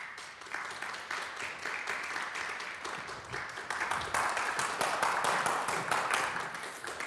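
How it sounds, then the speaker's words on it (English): At a TEDx talk in Eastchester, a large audience applauds steadily and densely for a speaker being welcomed to the stage, the clapping swelling slightly midway and continuing throughout. "Please give a round of applause for Dr."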